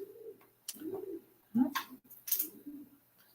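A pigeon coos softly in a few short, throaty phrases, close by, with brief rustling bursts between the calls.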